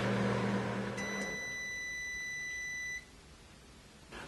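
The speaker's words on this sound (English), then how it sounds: "I heated up this egg roll in the microwave." A microwave oven after heating an egg roll, giving a long sustained electronic beep of about two seconds, heard close and clear after a brief hum fades.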